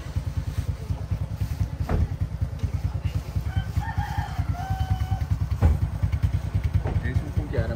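A motorbike rides to a market in Bali, its engine a steady nearby putter throughout, with a rooster crowing and a few other birds calling in the background while a person talks over it.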